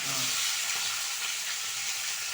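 Onion and curry leaves frying in oil for pakoda kurma, a soft continuous sizzle and hiss with faint stirring, no talk.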